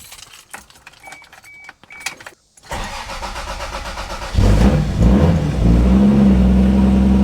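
A Toyota 7M-GTE engine with an upgraded sequential fuel injector setup starts up. Keys jingle first, then the engine cranks and catches, settling into a loud, steady, close idle around 1200 RPM.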